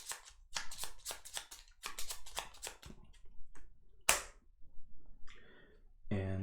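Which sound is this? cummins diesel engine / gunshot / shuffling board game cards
shuffling board game cards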